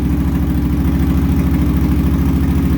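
A 2008 Yamaha V-Star 1300 V-twin cruiser fitted with Cobra exhaust pipes idles close and loud, its deep, lumpy pulsing throb steady and uneven, with no one speaking.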